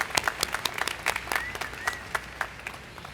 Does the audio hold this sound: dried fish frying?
no